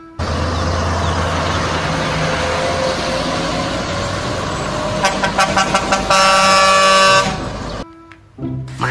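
Toy container truck horn honking over a steady motorized hum, first a rapid series of short toots, then a long loud blare before it cuts off.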